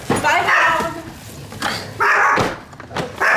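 A small dog barks and yips in several loud bursts close by, with short gaps between them and people talking over the noise.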